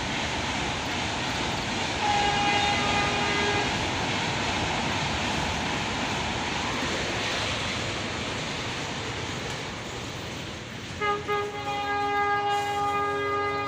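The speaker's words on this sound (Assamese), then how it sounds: "ট্ৰেইন যাই আছে ট্ৰেইন" A train passes near a riverside Chhath Puja gathering, a steady broad rumble of wheels and engine holding throughout, with a horn-like tonal blast sounding near the end.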